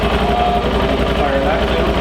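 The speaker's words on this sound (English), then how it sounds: "How does the Skidoo sound?" A Ski-Doo snowmobile engine idles steadily and close by, a constant low rumble with a slight buzzing tone throughout.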